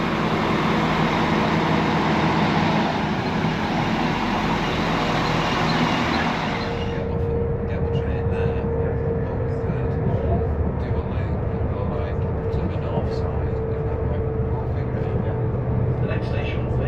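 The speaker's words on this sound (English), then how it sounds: "here's my train coming in on platform 1" A train pulls into platform 1 at Hope Station in the Peak District on a busy afternoon, a loud broad rumble that eases into a lower, steady hum with a sustained tone as it slows.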